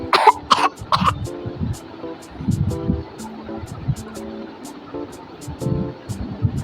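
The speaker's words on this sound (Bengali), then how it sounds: "কাশি হয়েছে খুব" Several harsh, close coughs burst out in quick succession, followed by a voice and low background noise.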